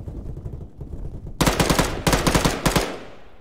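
Automatic gunfire at a shooting range in the ArmA3 video game, a sudden loud rapid burst of shots in several quick clusters after a quieter rumbling start, close and punchy with no talking.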